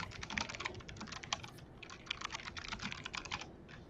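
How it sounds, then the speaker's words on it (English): Rapid uneven clatter of keys on a computer keyboard, close and fairly quiet, with short pauses between bursts and no talking over it. "Somebody is typing, I can hear."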